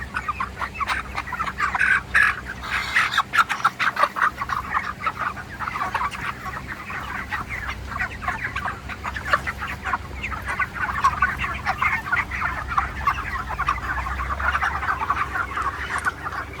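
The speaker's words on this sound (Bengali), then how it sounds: "আর তোমরা দেখছো কীভাবে খাবার খাচ্ছে পাখিগুলো" A flock of village farm chickens clucks continuously while eating feed, with scattered sharp pecking taps mixed into the steady, close clucking.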